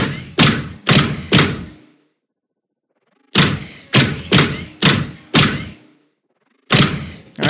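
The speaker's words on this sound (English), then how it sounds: "that's going to be kind of like the main footstep impact sound" Footstep impact sounds from a game audio footstep blend, heavy close thuds in rhythmic groups of three and five with silent pauses between, each step a sharp hit with a short decay.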